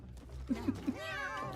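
A cat in Monster Hunter Wilds gives three short chirpy meows while eating vegetables, followed by a longer rising meow over a low game background, close and clear.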